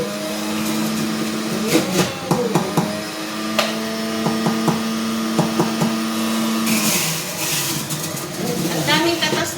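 A juicer runs steadily with a loud motor whine, pressing carrot, cucumber and ginger, with intermittent crunching and clunks as pieces feed in and a voice speaking over it.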